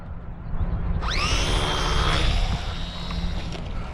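A WLToys XK A250 BF-109 radio-controlled plane takes off outdoors. Its small propeller motor bursts into a high whine that rises sharply, holds for a couple of seconds, then fades, over a constant low rumble of wind.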